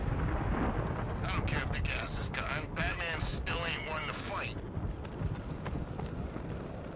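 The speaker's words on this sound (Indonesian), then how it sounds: "Wow, petir." Thunder rumbling in the video game Batman Arkham Knight, a loud continuous roll with crackling bursts in the middle, heard under game noise and a voice talking.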